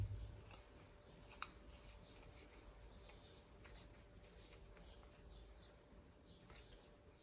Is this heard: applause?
no